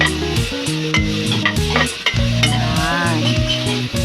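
Pork fat frying in oil until brown, a loud, close, continuous sizzle with crackling spatter and occasional stirring scrapes, no voices.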